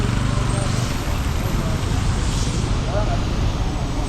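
Road traffic rolls past a roadworks site, a steady, loud wash of engine and tyre noise with vehicles droning by close at hand.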